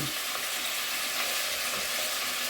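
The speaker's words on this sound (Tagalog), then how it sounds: "ipiprituin muna natin yung karne sa ating mantika." Meat frying in cooking oil for chili con carne gives a steady, dense sizzle and crackle that runs unbroken from start to finish, close and even, with no voices.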